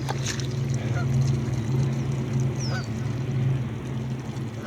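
A few ducks or geese call and honk intermittently, fairly faint, over a continuous low ambient drone outdoors.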